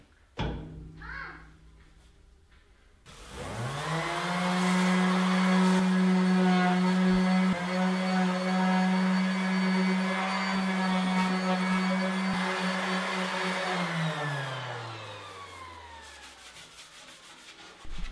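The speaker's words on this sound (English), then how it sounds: "Simply throw your abrasive pad on there, put your sander on top, and go to town cleaning off all of this rust." An orbital sander with an abrasive pad scrubs rust off a cast iron tool surface. After a quiet start it runs for about twelve seconds as a loud, steady, close motor whine, then winds down near the end.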